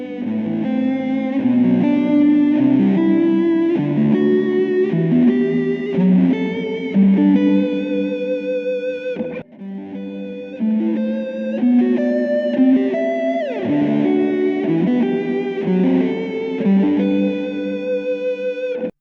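Distorted electric guitar plays plain triad arpeggios, a continuous flowing run of ringing notes with a brief break midway, loud and alone without talk.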